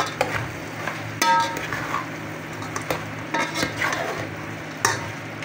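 Ingredients for mung bean stew are sautéed in a pan: a spatula scrapes and clatters in uneven strokes over a soft, steady sizzle.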